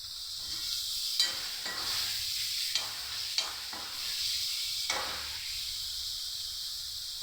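Tomatoes sizzling steadily in hot oil in a pan, a continuous bright hiss broken by a few sharp spatters and soft stirring scrapes.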